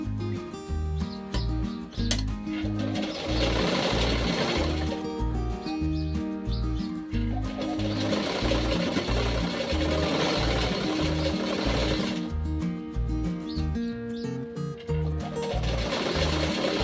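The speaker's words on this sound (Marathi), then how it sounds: "आपण हे इथून शिलाई मारून घेऊया।" A sewing machine stitches blouse fabric in steady rhythmic bursts, its rapid mechanical chatter starting and stopping close by with short pauses between runs.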